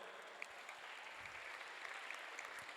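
Steady, moderately quiet applause from the audience at a welcoming gathering for new students at an Islamic boarding school, a dense even patter of clapping that holds throughout with no voice over it.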